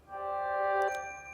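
"Crystal" notification sound on a Samsung Galaxy C4 phone, a single clean bright chime with a rich ringing tone that swells briefly, then cuts to a short sparkling tinkle and a fading high shimmer.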